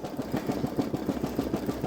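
A Babylock Solaris Vision embroidery machine stitches out an appliqué bow on a sweatshirt in a 5x7 hoop, giving a loud, steady mechanical chatter in a fast even rhythm.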